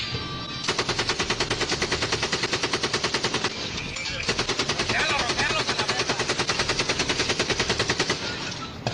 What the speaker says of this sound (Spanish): disparando una ametralladora M240